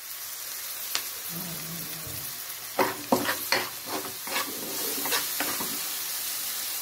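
Cumin seeds fry in hot oil with a steady soft sizzle, then a spoon scrapes and stirs through the pan in several sharp, close strokes while the sizzle carries on.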